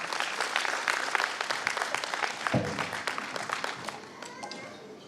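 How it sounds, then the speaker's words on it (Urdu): An audience at a wheelchair distribution ceremony gives sustained, dense applause to welcome a guest, loud and steady before gradually thinning out toward the end. "بھرپور تالیوں میں سر کا استقبال کریں۔"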